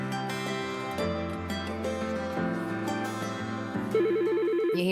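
A telephone in a phone system advert rings in a repeated electronic ringtone pattern, loud and close, heard alone without talk.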